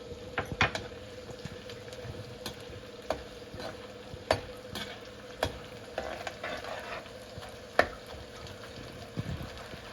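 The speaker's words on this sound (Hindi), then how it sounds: "हमारा घी गर्म हो गया है। और हम इसमें थोड़ा थोड़ा करके गोंद को डालेंगे।" Edible gum (gond) frying in hot ghee, a steady close sizzle with scattered crackles and pops, no voices over it.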